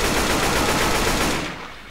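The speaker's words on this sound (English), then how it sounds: "Shotgun for the win!" Shotgun blasts in the zombie shooter Left 4 Dead 2 come as a dense, loud burst of fire over about a second and a half, then fade out quickly.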